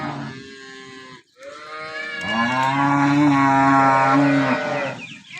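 A cow on a farm moos loudly and close by, a short call followed after a brief pause by a long, sustained bellow, with no talking.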